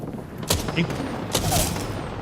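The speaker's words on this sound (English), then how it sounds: "Oh, I got airstrike." Airstrike explosions in a shooter video game, a few loud booming blasts in quick succession with a player talking over them.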